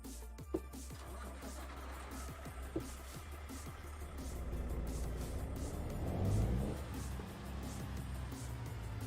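Simulated truck engine, a Cummins 605 in Euro Truck Simulator 2, runs with a steady low drone that swells into a louder rev around the middle before settling back, heard alone with no talk.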